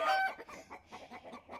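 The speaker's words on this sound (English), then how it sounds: "This is when a hen lays an egg, this is what you'll hear." A backyard hen sings her egg song after laying, opening with a loud squawk followed by a rhythmic series of clucks, close and clear.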